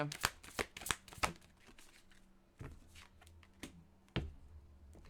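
A deck of advice cards is shuffled in a quiet room, with a quick run of crisp riffling snaps at first, then scattered single card taps and slides as one is drawn, soft and close.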